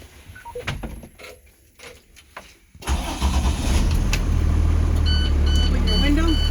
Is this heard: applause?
no